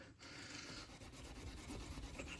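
Super fine steel wool rubs briskly over an old metal Mobil Oil pin in continuous scratchy strokes, close and faint.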